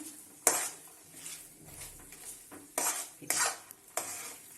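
Moong dal halwa roasting in ghee, stirred in a pan with several distinct scraping strokes and spoon clatters over a faint soft sizzle.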